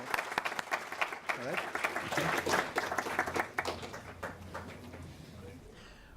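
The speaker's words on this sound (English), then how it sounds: "a final round of applause to everybody who participated." An audience at an inter-college media competition gives a final round of applause, dense clapping that swells and then tapers off, with a voice speaking briefly over it.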